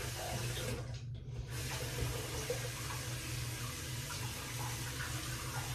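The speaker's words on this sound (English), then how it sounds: "Rinse off the razor a little bit" Tap water runs steadily into a sink while a razor is rinsed during a shave, a constant close splashing rush with a brief dip near the start and no talking.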